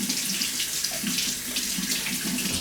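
A kitchen tap runs steadily into a sink while fruit is rinsed under the stream, giving a loud continuous gushing wash with slight splashing changes and no speech.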